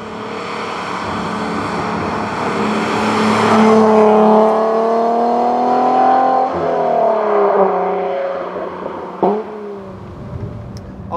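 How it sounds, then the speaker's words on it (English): An Alfa Romeo SZ sports car engine revs steadily and loudly, the pitch climbing and dropping with throttle blips, no voices present. "The engine is so sharp, you just want to blip down the whole time."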